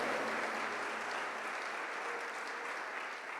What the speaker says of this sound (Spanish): Damos fuerte ese aplauso a nuestro Dios